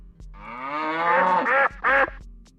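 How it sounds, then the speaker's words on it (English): A farm animal sound effect plays loud and close: a drawn-out nasal quacking call followed by two short, honking bursts, all without any talk. "I had farm sounds"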